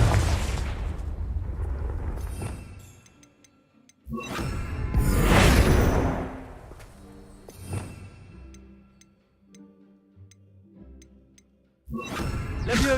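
Fire spell explosions in the video game Hogwarts Legacy: several loud bursting booms with whooshing tails, spaced a few seconds apart, with quieter magical chimes between them.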